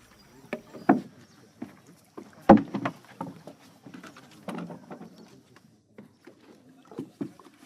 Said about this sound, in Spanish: el método de transporte en Chitwan es en canoa